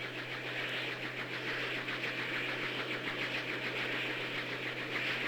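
Helicopter turbine engine running on the ground, a steady loud mechanical whine and drone with a rhythmic pulsing chop, continuous and close, without speech.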